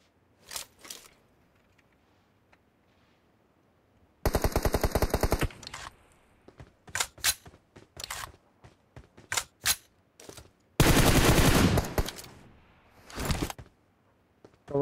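Gunfire in the PUBG Mobile video game: rapid automatic bursts of several seconds alternate with scattered single shots and short clusters, loud against near silence.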